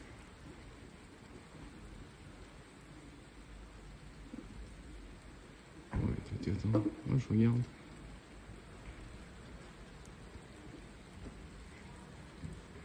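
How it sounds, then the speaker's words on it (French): Spring thunderstorm over Clermont-Ferrand with steady rain hiss throughout and a close, loud rumbling thunder burst lasting about two seconds midway. Someone talks briefly over it. "Ouais, ça tonne, il y a des éclairs."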